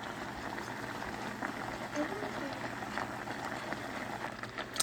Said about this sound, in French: Et on va brasser pour que ça prenne la couleur.